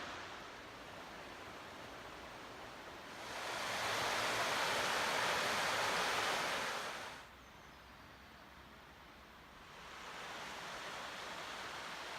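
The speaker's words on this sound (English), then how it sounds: "Right down there is the river." River flowing below the Monsal Trail in the Peak District, a continuous distant rushing of water that swells louder for a few seconds, drops, then rises again, with no talking.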